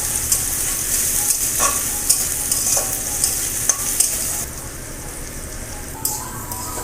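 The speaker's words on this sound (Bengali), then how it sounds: "এবার পেঁয়াজ দিয়ে দেবো পেঁয়াজটাকে লাল লাল করে ভেজে নেবো" Onions frying in oil for a thin chicken and potato curry give a steady, close sizzle, broken by occasional sharp crackles and spoon scrapes as they are stirred, with no voices.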